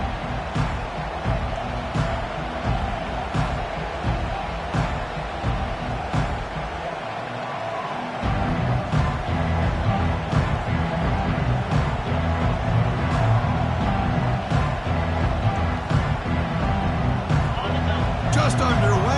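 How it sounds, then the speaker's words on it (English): A home crowd at a college football playoff game, Nebraska versus Michigan State, roars as a steady dense wall of noise, swelling louder partway through, while a broadcaster talks over it. "this home crowd is fired up and ready to make a difference today"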